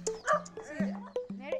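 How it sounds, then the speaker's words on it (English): Small puppies in a backyard in Nagaland give a series of short, high yips and whimpers, close by and fairly quiet, coming in rapid overlapping bursts. "Oh my god, look at these small little puppies."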